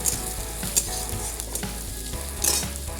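Cabbage frying in a pan with salt and turmeric, a steady close sizzle and crackle with occasional sharp spatters and stirring scrapes, no talk.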